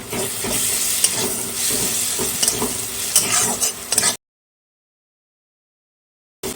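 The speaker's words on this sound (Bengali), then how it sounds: "আবারও সামান্য এই যে রসুন পেঁয়াজ দিব দিয়ে নাড়াচাড়া দেবো" Onion and garlic sizzle and crackle in a hot pan with stirring scrapes, steady for about four seconds before cutting to silence.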